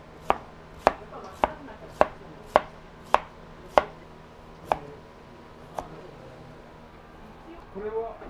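A knife taps sharply on a cutting board in about nine evenly spaced strikes, flattening shrimp for tempura, crisp and close, fading to quieter room sound with a voice near the end.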